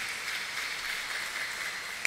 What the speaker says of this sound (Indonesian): Ya, tepuk tangan, mulai tepuk tangan dari sana.